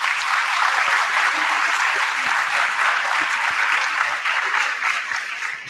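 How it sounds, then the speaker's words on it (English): Attendees at a panel event on student visas give sustained applause, a broad wash of steady clapping at moderate loudness that holds evenly and tapers slightly at the end. "I would like to give our panelists and our special guest a big round of applause."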